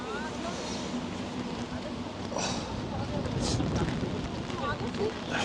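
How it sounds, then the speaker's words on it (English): Strong gusts rush outdoors in Taiwan in near-typhoon weather, a loud broadband roar that buffets the microphone and swells and eases throughout. A voice talks underneath. "It's so windy, I had to take cover there because the wind has picked up."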